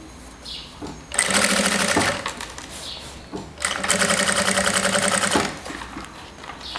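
A sewing machine stitches bias binding in two loud, rapid bursts of rattling stitches, each lasting a couple of seconds, separated by a brief quiet pause.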